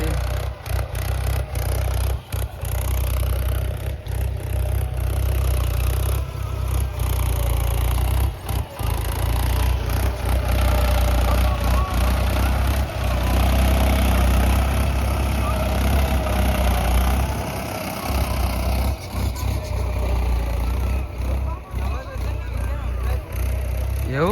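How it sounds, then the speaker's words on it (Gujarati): A tractor engine rumbles continuously at close range in a farm field, loud and low, with a few brief dropouts. "એક બાજુ ટ્રેક્ટર ચાલે છે"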